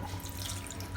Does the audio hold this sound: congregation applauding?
no